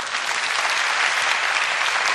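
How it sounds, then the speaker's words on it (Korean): An audience claps for a Korean author at a talk, a short burst of dense, steady applause heard alone. "박수 안 치시나요?"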